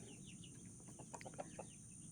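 Hens and roosters in a backyard flock give soft, short clucks in a quick irregular run, faint and close, over a steady low background hiss.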